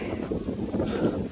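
Wind blows outdoors, a steady low buffeting rush across the microphone with no talk.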